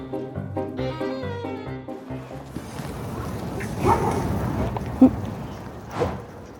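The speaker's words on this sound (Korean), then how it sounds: "누가 짖었어" A dog, one prone to going after other dogs, gives a few short barks and yips. They sound faint and partly buried under music and outdoor background noise.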